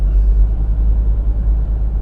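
BMW car driving on a road, a steady low interior rumble of engine and tyres, loud and continuous with no talk.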